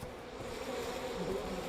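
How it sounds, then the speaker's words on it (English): Bees buzzing in a video game, a low continuous droning hum that swells slightly toward the end, faint and steady, no voices. "Those are bees."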